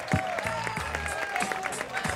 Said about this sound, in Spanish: ¡Ya, un aplauso!